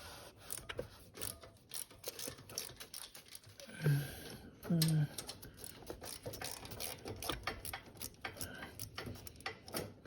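Ratchet loosening an exhaust nut on a Honda SH150i scooter, quick irregular clicking strokes in bursts, fairly close, with two brief low thumps partway through.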